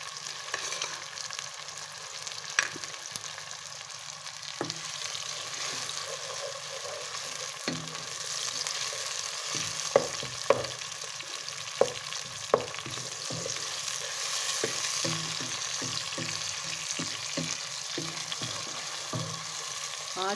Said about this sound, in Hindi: एक दो मिनट तक हम इसको फ्राई करेंगे तो टमाटर हमारे थोड़े बैठ जाएंगे